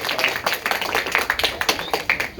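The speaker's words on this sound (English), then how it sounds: "So big round of applause for him" A group of middle school students and football players gives a short round of applause for a varsity sprinter during a coach's talk: dense, fairly close hand clapping that keeps going without pause, with little talking.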